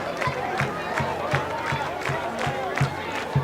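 A packed crowd at a high school football game between Gross and Seward roars and cheers, with rhythmic surges of shouting and chanting pulsing steadily over a continuous wash of crowd noise.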